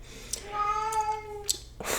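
A single drawn-out, plaintive meow from a female house cat waiting by a door, close and clear, with faint rustling before and after.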